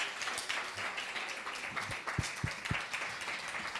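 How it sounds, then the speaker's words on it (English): At a Women in Business event an audience applauds, a faint, diffuse patter of clapping from a distance, with a few sharper individual claps standing out near the end. "A big, big round of applause to these brilliant ladies."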